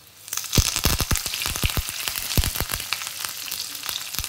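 Curry leaves sizzle and crackle in hot oil in a pan for a dish of peas, soya chunks and potato, giving a dense, close frying hiss broken by a run of sharp pops, with no voices.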